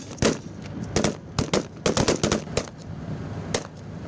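Gunfire from a BMP infantry fighting vehicle giving fire support during a military exercise: sharp, loud cracks fired singly and in quick clusters at irregular intervals over a low background rumble.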